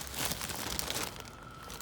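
A plastic sheet crinkles and rustles as it is handled over a germination chamber, a close, continuous crackling that eases off toward the end.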